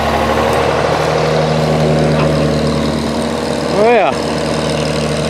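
A 1950 Studebaker Champion engine, run again after 40 years stored in a shed, idles steadily and close throughout, with a brief voice near the end.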